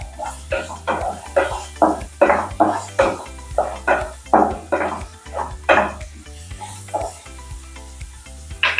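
Onions and green chillies stir-fried in a pan for mixed vegetable palya: a rhythmic series of spatula scrapes and clanks against the pan over a constant sizzle, close and fairly loud.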